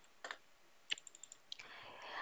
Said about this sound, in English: click the print screen on your keyboard